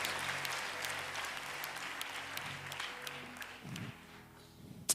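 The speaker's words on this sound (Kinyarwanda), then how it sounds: "Mighty hands clap to King of Kings." A church congregation claps hands for the King of Kings, rendered as a fairly faint, continuous patter of many hands over a low hum of tones.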